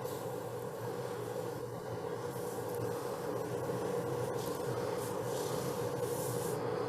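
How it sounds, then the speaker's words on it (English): A wooden stub on the bottom of a turned piece is sanded with 80 grit abrasive while a dust extractor runs, giving a steady, close rubbing hiss over a continuous droning hum with no talk. "So I just want to sand that stub off the bottom."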